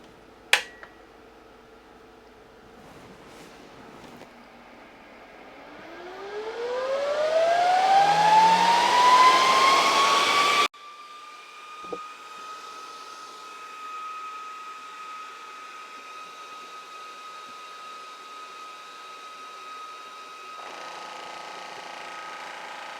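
A VEVOR two-cylinder 4500 psi PCP air compressor starts up with a rising motor whine that climbs in pitch over several seconds, then settles into a steady high-pitched running hum with faint mechanical chatter.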